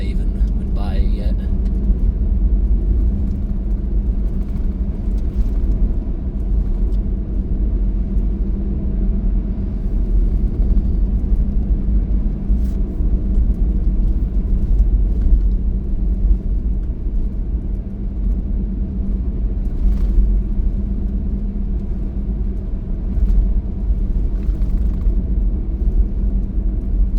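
Car cruising along a smooth road, a steady continuous low rumble of engine and tyres inside the cabin, unchanging throughout with only faint brief ticks on top.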